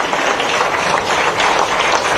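Loud, dense applause from an audience at an award ceremony honouring a female cricketer, a continuous wash of many hands clapping together with no break.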